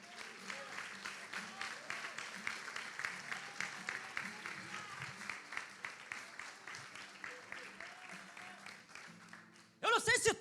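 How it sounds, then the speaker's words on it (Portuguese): Church congregation applauding after the preacher's call, with steady broadband clapping at moderate distance and a faint voice beneath it until a louder burst of sound near the end. "Aplauda o nome do Senhor."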